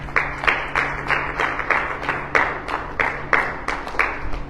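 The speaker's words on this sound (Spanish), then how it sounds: "un aplauso al Señor" A church congregation claps in steady rhythmic unison at a Spanish-language Sunday service, loud regular bursts of many hands continuing throughout over a faint low hum.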